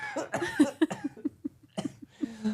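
A burst of short coughs and breathy, laugh-like bursts, close by, in quick uneven succession, ending in a longer rasping exhale.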